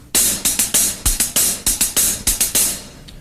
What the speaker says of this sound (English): Say you had an 8th note and 2 16th notes.